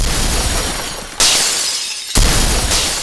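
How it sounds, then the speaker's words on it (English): Smashed glass sound effect inside a house music track: two loud shattering crashes about a second apart, each bright burst decaying into the driving mix. "the other elements you can hear coming in there's like some smashed glass"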